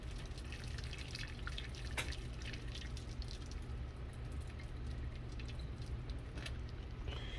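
Water poured into a pot of ramen to make the broth, a continuous close splashing and trickling flow that holds steady and moderately quiet, with scattered drips and no talk.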